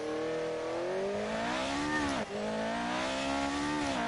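A classic Formula 1 car in F1 2018 revs with a steady, loud engine whine, then the pitch dips sharply as the car slides loose, before the engine climbs back up.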